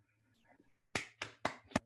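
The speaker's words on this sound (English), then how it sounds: "A clap for everybody." A few sharp claps from a small audience after a lecture on the Gap-Hamming problem, four distinct hits about a quarter second apart that follow a faint murmur.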